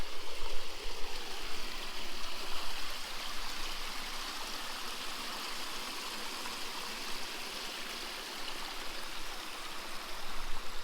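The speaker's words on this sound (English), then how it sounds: "I like the sound of the running water" A stream runs steadily along a morning walk, its rushing, gurgling water filling the clip at a moderate, even level with no voices.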